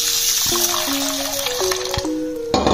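Water splashing and pouring into a bowl of soaking moong dal for rail palaaram, close and steady, with clinking and shifting tones as the bowl fills and a louder gush at the end.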